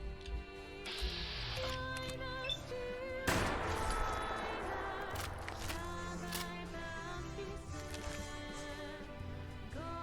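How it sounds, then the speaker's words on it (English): Scattered gunshots and bursts of fire crackle in a busy Fallout London game soundscape, with a layered musical and ambient bed running throughout. "Hear gunfire somewhere for some reason."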